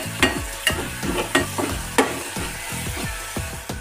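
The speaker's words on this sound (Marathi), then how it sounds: "सर्व एकत्र करून ह्या भाज्या फ्राय करून घेऊया 2 मिनिट" Mixed vegetables and masala frying in a pan for masale bhat, a spoon scraping and clanking against the pan in a quick, regular stirring rhythm over a continuous sizzle, close and fairly loud.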